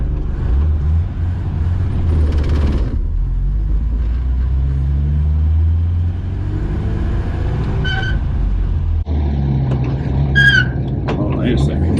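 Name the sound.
1953 Buick straight-eight car driving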